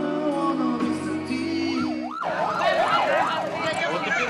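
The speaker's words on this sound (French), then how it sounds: "Nous entendons maintenant le son d'une sirène." A police escort siren wails as it arrives with the groom at a Toraja wedding in Indonesia. Steady tones give way to a rising and falling wail after a brief stretch of music and voices.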